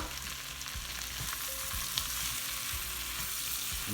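Fluffed-up potatoes fry in 50 grams of butter for an Indian cottage pie with sagaloo topping, a soft, steady sizzle close by with scattered low knocks from the pan, no talking.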